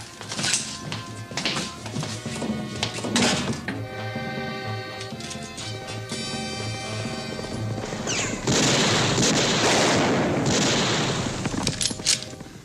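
A chaotic exchange of gunfire in a 1959 Western TV episode, with repeated shots, bursts and crashes layered over a dense, loud backdrop of rumbling noise for several seconds.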